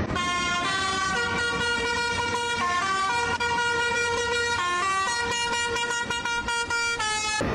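A car horn plays a tune as a sustained melody of bright, honking notes that step up and down for several seconds, loud and continuous with no talking over it.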